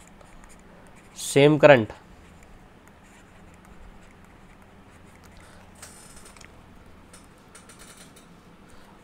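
Marker or chalk scratching on a board in short bursts, faint and intermittent after a brief spoken phrase, in a quiet classroom setting.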